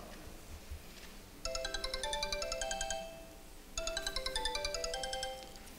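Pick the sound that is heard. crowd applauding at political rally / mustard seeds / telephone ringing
telephone ringing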